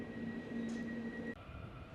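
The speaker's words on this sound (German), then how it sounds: "Da ist gerade eine S-Bahn, die fährt einmal kurz nach Hannover und dann weiter nach Haste." An S-Bahn commuter train at a station in Neustadt: a steady low rumble with a sustained electric motor whine and a high tone that cuts off suddenly, heard at moderate distance.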